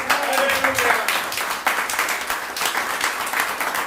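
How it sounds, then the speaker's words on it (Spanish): A church congregation breaks into loud, sustained applause during a sermon. Dense clapping continues throughout, with voices and cheers mixed in among the crowd. "dale un aplauso a Cristo, por favor"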